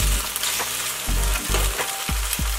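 Firm tofu frying in a pan or wok produces a close, loud sizzle interrupted by repeated low thumps and scrapes as pieces are moved and flipped.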